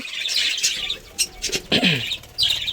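Small caged pet birds chirp in short, bright bursts of tweets with brief gaps between them, close by and fairly loud, with no talking.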